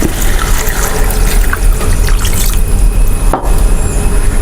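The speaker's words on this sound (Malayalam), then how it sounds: "ഇനി ഇതിലേക്ക് ഒരു കപ്പ് വെള്ളം ഒഴിച്ച് പതപ്പിച്ചെടുക്കാം" A cup of water poured into a pan of chicken curry, a continuous close splashing trickle with a sharp knock near the end, loud and steady.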